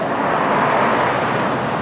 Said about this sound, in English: And there's that other jet.